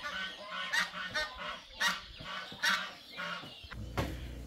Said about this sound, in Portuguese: O tal ganso.